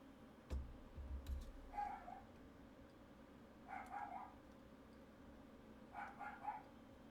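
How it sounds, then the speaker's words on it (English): A dog barks faintly in the background, three short bursts of a few yaps spaced a couple of seconds apart, low and distant against a steady hum. "it seems to be picking up the audio of my dog barking just a tiny bit"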